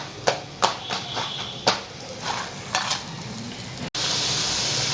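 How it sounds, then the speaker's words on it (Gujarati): Hot oil sizzles steadily as spiced puris (khari puri) deep-fry, with scattered clicks and light scrapes, then a louder, continuous hiss of frying swells near the end. "આ રીતના બધી પૂરી હવે આપણે તળી લઈશું"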